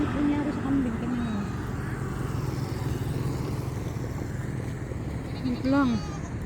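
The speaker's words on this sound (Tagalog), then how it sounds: "Ito ay kambing yan." A goat bleats twice, once near the start and again near the end, with wavering nasal calls over a rumbling background of passing motor traffic.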